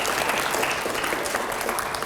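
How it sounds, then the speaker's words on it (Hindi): Audience applause at a Hindi TV political debate show, a steady dense clapping that fills the whole moment without a break. "अगले सवाल के लिए जोरदार तालियां हो जाए जरा"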